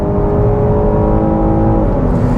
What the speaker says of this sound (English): Now you'll start hearing that engine noise kick in.